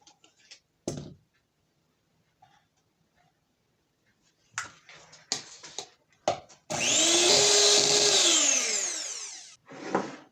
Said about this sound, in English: I'm just going to use the hand mixer